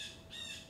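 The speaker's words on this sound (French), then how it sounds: "Les oiseaux." Faint outdoor birds call and squawk thinly in the background in spring, a brief soft chirping with no voices.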